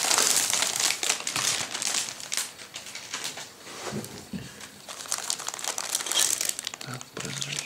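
A plastic bag holding the parts of a ZIL-131 emergency service truck scale model kit crinkles and rustles as it is handled, loud and close in repeated bursts, with someone talking over it.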